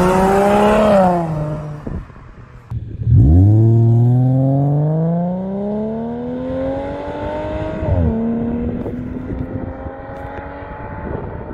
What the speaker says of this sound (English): I will say that the flat 6 sounds awesome with an exhaust though.